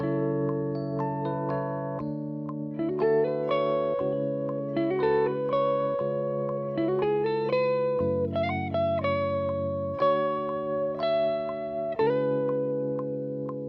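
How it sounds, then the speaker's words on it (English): Layered electric guitars play an R&B melodic line over sustained chords, with effects-laden, slightly distorted tone and steady phrases changing every couple of seconds. "we're gonna have a bunch of different guitar layers building up the atmosphere"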